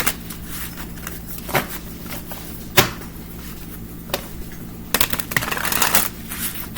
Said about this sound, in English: I always want to make sure to shuffle on camera.